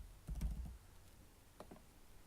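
A computer keyboard is typed on in a few short bursts of faint, quiet key clicks with a pause between them.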